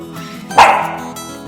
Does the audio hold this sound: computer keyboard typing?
no